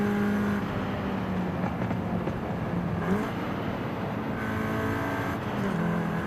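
A fast car engine in Forza Horizon 5 drones steadily at high speed, with pitch rising and dipping through gear shifts and throttle changes, loud and close with no talk.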